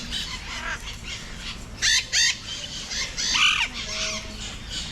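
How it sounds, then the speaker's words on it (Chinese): Colourful parrots in a large netted aviary at a bird park in Foz do Iguaçu, Brazil, give a few loud, harsh squawks and calls over a steady background of chirping birds. "那么那些最漂亮的彩色鹦鹉呢，都被关在这个大的有网的这个空间中"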